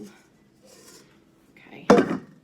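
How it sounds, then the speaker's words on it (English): A dough scraper scrapes bread dough out of a bowl, giving a short rough scrape with a bowl knock near the end after quieter handling noises. "I use this scraper to kind of get it all out of the pan or the bowl"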